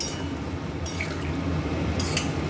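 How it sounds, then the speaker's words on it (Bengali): A little water pours into a simmering soya chunk and parwal curry, a steady close splashing wash with a few faint clinks on top. "জলটা অল্পই দিলাম"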